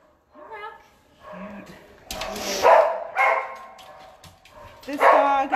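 Dogs in an animal shelter bark, yip and whimper in loud, uneven bursts at feeding time, close by and echoing, while people talk between the barks.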